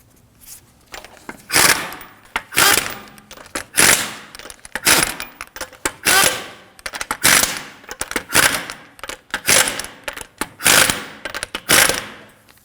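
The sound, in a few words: tightening wheel lug nuts on a Subaru XV Crosstrek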